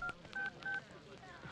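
Three short electronic keypad tones from a phone as a number is dialed, quiet and evenly spaced, with faint background noise.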